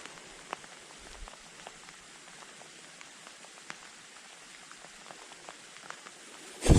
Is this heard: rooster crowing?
no